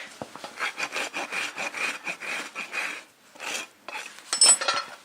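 A farrier's rasp files a horse's hoof in short, repeated rough strokes, a gritty scraping rhythm heard close up with a brief pause partway through, and no talking.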